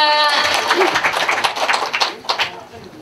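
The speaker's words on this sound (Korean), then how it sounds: "여러분 다 많은 박수 부탁드립니다." Audience applause at a celebratory stage event for a traditional janggu drum group, ragged clapping that starts over a fading voice and thins into scattered claps and chatter as it dies down.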